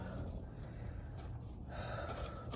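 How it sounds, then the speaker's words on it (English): Someone blows their nose, a soft, close, breathy snorting rush of air lasting a couple of seconds, quiet and alone. "I just didn't want you guys to see me blowing my nose"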